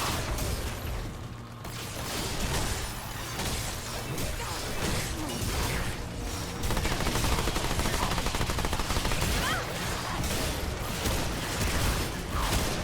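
Sustained gunfire from the basic gun in the video game Remnant II, dense rapid shots with crashes and mechanical clatter layered throughout, loud and continuous without pause.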